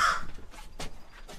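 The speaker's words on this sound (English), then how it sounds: "do you have any questions on the crows?" Crows calling at an animal sanctuary: a short run of hoarse caws, three or four separate calls spaced unevenly over a moment, moderately distant and fairly soft, with no talking.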